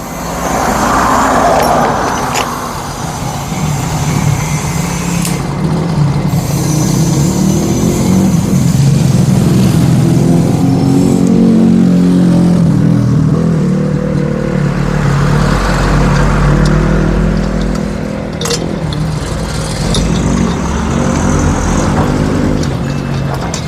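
Yamaha Fino scooter engine, hesitating at mid RPM under sudden throttle, revving loudly and continuously close up, rising and falling through repeated throttle blips with no talk over it.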